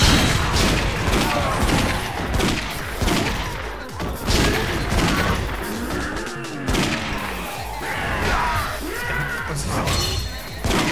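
Shotgun blasts from the video game Yakuza: Dead Souls, loud and repeated in an irregular rhythm amid a dense, chaotic mix of gunfire, crashes and impacts from close range, with no talking.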